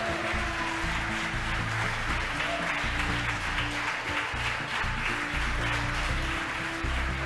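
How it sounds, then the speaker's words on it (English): A crowd watching a SpaceX Falcon Heavy launch cheers and applauds continuously, a dense wash of clapping over a low steady hum. "the folks that watched the mission cheering"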